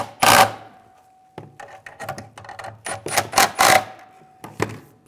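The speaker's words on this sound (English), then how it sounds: "And we'll tighten these down." Tightening exhaust manifold bolts on a 2013-2016 Dodge Dart, with a burst of ratcheting or impact-tool clatter followed by quick clicking bursts and short rattles, close and fairly loud.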